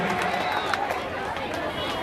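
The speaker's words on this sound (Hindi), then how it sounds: "जोरदार तालियां स्वागत।" Dense applause from an audience at an Independence Day ceremony rings out as a continuous wash of many hands clapping, loud and sustained, with a voice speaking over it.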